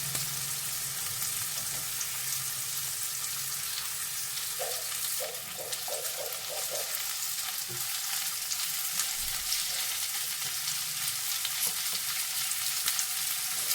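Ginger and green chillies fry in hot oil with a steady, close sizzle that runs unbroken, with a few faint clinks partway through.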